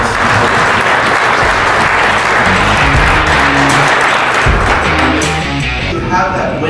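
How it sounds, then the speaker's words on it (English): A room full of people at a company banquet applauds loudly and steadily, dense close clapping with a few voices mixed in, tapering slightly near the end. "So give yourselves a round of applause."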